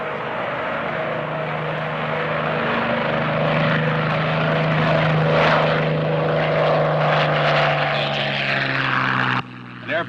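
A propeller airplane engine drones steadily up close, its low throbbing hum holding for several seconds before cutting off sharply, with voices talking underneath.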